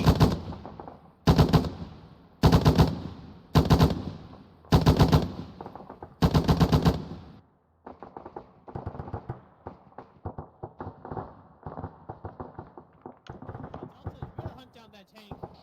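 Heavy machine gun fire in a military video game, loud sustained bursts in a steady rhythm followed by lighter, scattered rattling fire, with voices talking over the radio.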